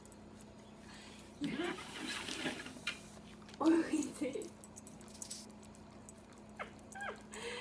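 A pet dog whimpers and yips in a few short, close bursts while eating, with faint patter and jangling between cries and a person speaking briefly.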